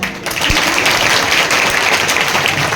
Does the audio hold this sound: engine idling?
no